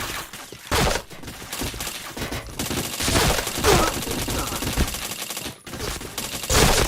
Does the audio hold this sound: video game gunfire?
yes